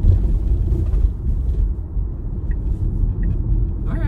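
A giant army truck rumbles nearby in commuter traffic, heard from inside a Tesla Model Y as a heavy, continuous low engine drone that holds steady throughout, with a few faint higher squeaks near the end.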